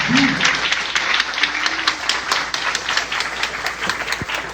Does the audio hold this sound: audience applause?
yes